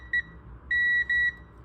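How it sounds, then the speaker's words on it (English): A multimeter's continuity tone sounds during a Whirlpool heating element check, three clean electronic beeps: a brief chirp, then two longer steady tones in close succession, fairly quiet and alone. "So I've got this on the audio, so it'll give me a little tone if it does."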